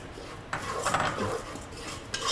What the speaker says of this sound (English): Once you can really smell those spices coming through, lentils go in.